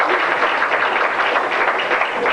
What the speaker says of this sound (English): his friends are cheering him on